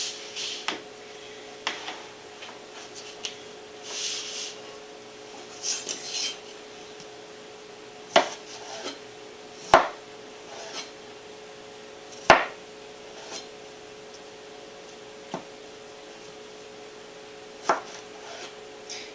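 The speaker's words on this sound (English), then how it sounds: "So we're going to dice them now." Peeled potatoes are diced with a knife on a board, giving scattered crisp chopping taps spaced irregularly, with a few louder knocks standing out over a quiet kitchen hum.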